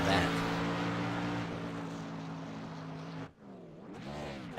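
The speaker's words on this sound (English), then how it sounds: "Matt Sherry doing some burnouts as well" An iCAR Cup Series race car does burnouts, its engine droning loud and steady with a brief cut near the end before revving again, heard at a distance under a broadcast commentator's talk.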